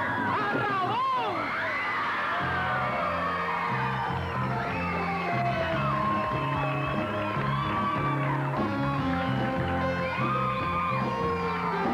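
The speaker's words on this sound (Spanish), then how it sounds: "¡Con un fuerte aplauso!" Live audience at a 1989 show at Sunshine Café in Puerto Rico whoops, yells and cheers loudly throughout, with a steady crowd roar under a hosting voice and rhythmic music.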